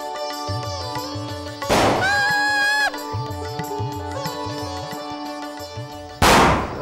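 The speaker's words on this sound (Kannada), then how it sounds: "ಈ ಪಟಾಕಿ ಸೌಂಡ್ ಕೇಳೋದು ಅಭ್ಯಾಸ ಮಾಡ್ಕೊಳ್ಳಿ." Two loud, sharp firecracker bursts, one early and one near the end, crack over steady rhythmic background music.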